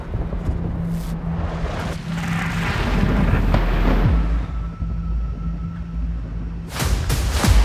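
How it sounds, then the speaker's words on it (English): A storm raging outdoors, low rumbling roar that swells and fades with thunder-like booms and rain hiss, heavy and continuous with no talk. "As the storm raged outside"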